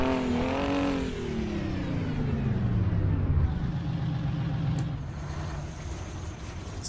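Simulated Kenworth 521 truck engine in American Truck Simulator, a loud continuous diesel drone whose pitch sweeps down over a few seconds then holds steady, with no talk over it.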